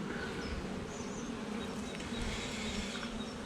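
Honeybees buzzing steadily at a hive during swarm division, a dense, continuous drone of many wings close by with no talk over it.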